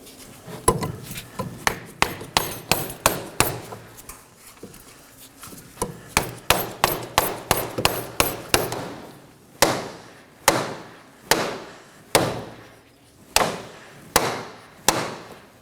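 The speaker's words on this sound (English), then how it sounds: "I'm going to hit the head with a rubber mallet." A rubber mallet strikes the head of a front CV axle on a 2018-2024 Chevrolet Equinox 1.5L again and again: a quick run of taps, then a slower series of firm, evenly spaced blows, close by.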